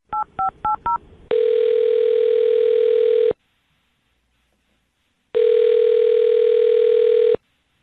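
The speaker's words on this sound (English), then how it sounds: "I'm going to dial her phone number right now, okay?" Phone keypad tones beep four times in quick succession, followed by two long, loud, steady ringing tones with a silent gap between them as the call connects.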